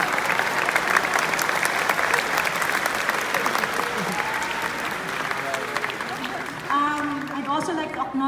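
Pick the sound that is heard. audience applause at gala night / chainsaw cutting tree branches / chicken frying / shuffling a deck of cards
audience applause at gala night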